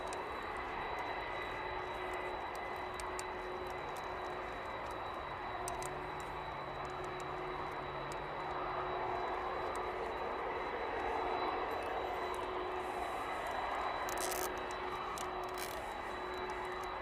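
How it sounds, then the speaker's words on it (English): Steady broadband roar of Boeing 767 airliner engines idling at an airport before taxiing, heard from a moderate distance as a continuous drone with a constant high whine, slight swells later on, and no talking. "767 is making final preparations to taxi"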